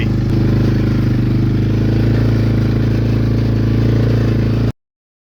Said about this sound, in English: I'm just riding the ATV.